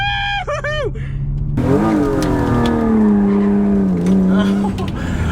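A BMW E36 M3 engine revs hard during a race, sweeping up and down in pitch as it accelerates, loud and close, with a brief tire squeal.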